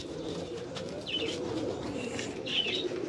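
Caged pigeons coo softly in a low, murmuring drone, with a couple of brief higher chirps and faint wing or cage rustles mixed in, close by and without talk.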